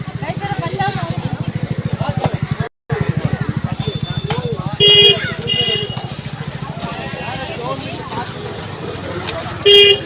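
A dried-fish (sukat) vendor's vehicle arrives in a Konkan village, sounding two short, bright honks about five seconds apart over a steady low engine drone, with people talking throughout.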